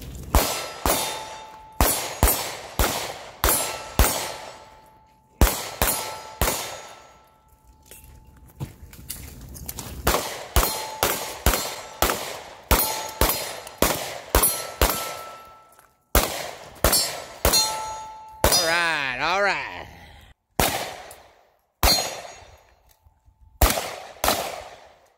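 Outdoor gunfire at a shooting range in Rock Castle, Kentucky, sends rounds into steel targets, giving a long run of sharp loud shots. Each shot carries a ringing metallic clang, and the shots come in quick irregular bursts with short pauses between them.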